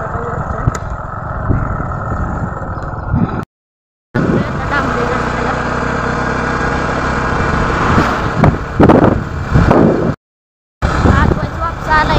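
A vehicle engine hums steadily and close, with a couple of brief cutouts, and a voice talks over it.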